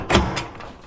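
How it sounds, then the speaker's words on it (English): A door is unlocked and opened with a key at a renovated garden kitchen. One sharp, loud close-up clack is followed by a softer second knock and faint rattling. "So I'm going to open our second door."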